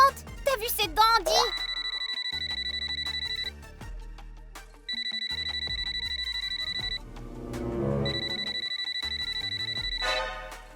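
Telephone ringing in a teen drama series, a bright electronic trill repeating in three bursts with pauses between, clear and fairly loud, with brief lively voices and music at the start.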